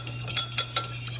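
A spoon stirs garlic seasoning powder into butter in a bowl, giving three light clinks over a steady low hum, close and fairly quiet.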